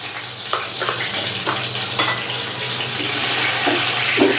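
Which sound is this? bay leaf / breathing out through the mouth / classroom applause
bay leaf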